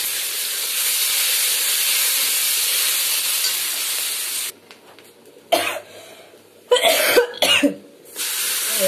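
Fried egg and potato pieces hit hot oil in a home kitchen, making a loud, close hiss for about four seconds before it quiets. A few coughs and clatters follow.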